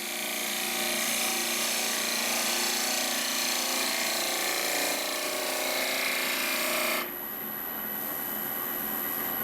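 A wood lathe spins while a turning tool skims the workpiece, making a dense continuous scraping and humming whir that drops slightly near the end as the cut stops; close and steady.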